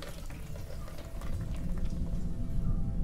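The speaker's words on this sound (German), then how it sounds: "Oh, es regnet." Rain in a video game, a soft, steady hiss and patter of falling water, fairly quiet and swelling slightly louder partway through, with no talk.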